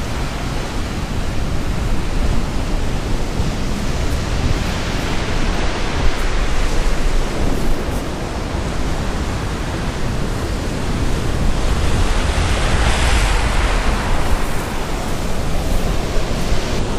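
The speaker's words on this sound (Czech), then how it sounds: "Ale hele, to moře rozbouřený." Rough, churning sea waves pound the black volcanic sand of Reynisfjara beach in Iceland, a loud, continuous roar of surf with steady wind and no voices.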